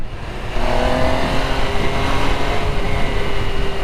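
An MV Agusta motorcycle ridden at a 2024 demo day, its engine droning loud and close with a steady rising pitch as it pulls away.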